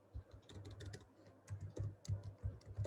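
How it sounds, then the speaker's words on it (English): Typing on a computer keyboard, a quick uneven run of soft clicking keystrokes heard close and fairly quiet, with no voice over it. "I'm going to type it also"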